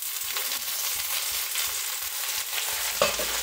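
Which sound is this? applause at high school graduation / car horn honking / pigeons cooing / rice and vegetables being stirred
rice and vegetables being stirred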